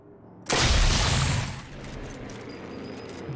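One sudden loud gunshot in a video game bursts out and rings for about a second, then fades into a lower steady rumble with faint clicks.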